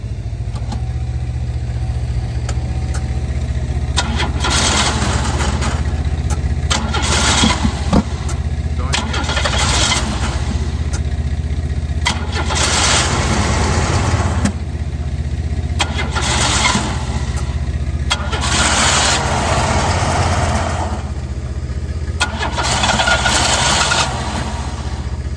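A 1993 Oldsmobile Cutlass Ciera engine, just after a throttle body cleaning, cranks and sputters in repeated start attempts with bursts of engine noise over a steady low rumble, while people talk nearby.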